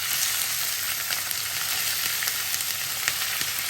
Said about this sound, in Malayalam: ഇതൊന്ന് വെളിച്ചെണ്ണ ചൂടായി കഴിയുമ്പോൾ നമുക്കിത് ഇഞ്ചി ആദ്യം ചേർത്ത് വറുത്ത് തുടങ്ങാം.